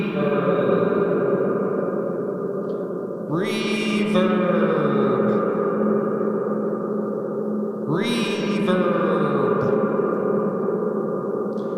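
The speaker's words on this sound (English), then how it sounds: "this pedal's really, really tight for reverb" A sustained guitar tone washed in heavy reverb from a reverb pedal, with two bright strums swelling and blooming into long, shimmering tails.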